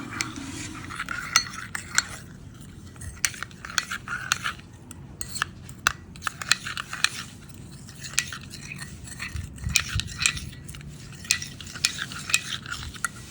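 A spoon clinks and scrapes steadily against a cup, quickly stirring coffee powder into hot water with many small metallic taps over a low background hum.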